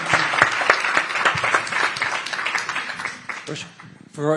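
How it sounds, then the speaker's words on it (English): An audience at a U.S. Senate event applauds a senator, with dense, sustained clapping that fills the room and a voice speaking over it. "let's give a big round of applause for Senator Hagerty and all of his hard work"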